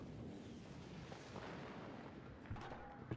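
MX-10 weapons fire in a combat video game, producing faint, rumbling booms and muffled bursts over a low background, with a few sharper hits near the end.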